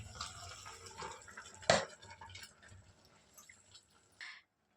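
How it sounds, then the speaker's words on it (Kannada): Water poured from a glass into a simmering homemade chicken curry (saaru) gives a short splashing burst midway, with soft drips and light kitchen clatter around it. "ಈಗ 1 ಗ್ಲಾಸ್ ಆಗೋಷ್ಟು ನಾನು ನೀರು ಹಾಕ್ತಾಯಿದ್ದೀನಿ."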